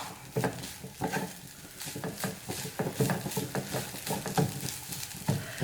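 Cooked dal being stirred into a spinach stir fry (cheera parippu thoran) in a pan, a spoon scraping and tapping in an irregular rhythm of soft knocks over a faint sizzle, close and moderately loud.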